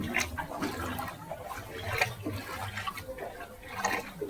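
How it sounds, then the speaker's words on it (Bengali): Steady rain falls across a city street during an all-day downpour, with scattered patters, splashes and drips over a low running-water wash, moderately faint and with no voices. "আজকে সারাদিন শুধু বৃষ্টি হচ্ছে বৃষ্টি"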